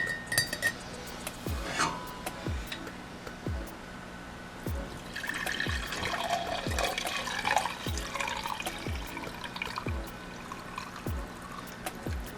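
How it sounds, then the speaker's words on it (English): Tea strained through a strainer into a cup: a steady trickle and pour of liquid with repeated soft clinks of metal against ceramic, near and alone with no talk. "now we're going to strain it into our cup"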